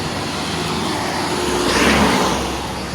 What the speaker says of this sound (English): Lots of cars.